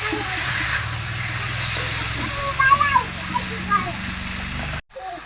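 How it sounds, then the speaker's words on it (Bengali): Water poured into a pan of chicken curry being cooked down with spices, a steady splashing hiss throughout that breaks off abruptly near the end. "জলটা দিয়ে দিলাম।"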